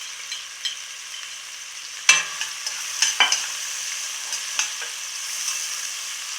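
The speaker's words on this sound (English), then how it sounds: "Once the oil is hot, you add in the onion" Onion and hot pepper sauté in hot extra virgin olive oil, a continuous close sizzle with a loud burst as they hit the pan and scattered scrapes from stirring.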